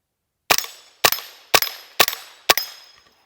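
Five sharp shots from a GOAT-15 .22LR semiautomatic rifle, fired at an even pace about half a second apart, each a loud crack with a short ringing decay, outdoors with no talking.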